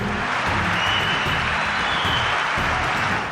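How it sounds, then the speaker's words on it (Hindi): Sustained applause fills a large hall at a Saudi Arabia event with a standing audience, a dense steady wash of clapping from many people that continues throughout. "हॉल तालियों से गूंज उठा"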